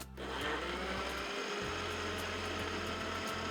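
An electric blender grinds grated carrots with sugar and no milk, a loud steady whir that runs alone for several seconds, with the motor pitch shifting briefly partway through.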